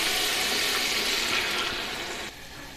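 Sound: water poured into pot for potato biryani

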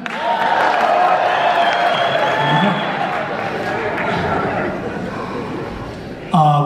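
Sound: concert audience applause

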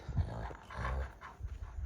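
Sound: two kangal dogs panting and growling, sizing each other up

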